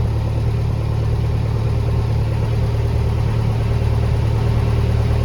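An MTZ tractor engine idles steadily after a cold start at minus 6 degrees Celsius, with a low, constant rumble and a throbbing chug throughout, close by and loud.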